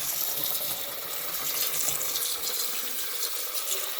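Cold water pours from a kitchen tap over cooked pasta in a steady, close, full hiss without pause.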